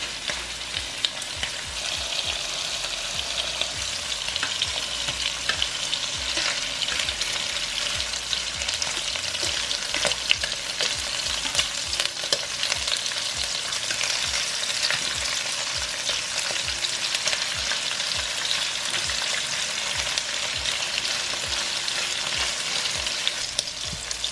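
Steady, crackling sizzle of shrimp frying in a hot pan, close and continuous throughout, with no voices.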